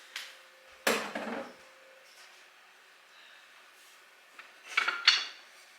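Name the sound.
diced tomatoes added to a hot pan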